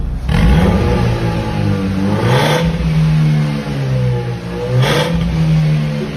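A car engine fitted with a modified exhaust muffler revs repeatedly, rising and falling in loud, close bursts, with three distinct throttle blips over a steady rumbling idle.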